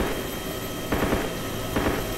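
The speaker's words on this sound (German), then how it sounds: "Oh, der Heli startet." A helicopter starting up in the video game DayZ gives a steady mechanical engine hum, with two short louder bursts partway through.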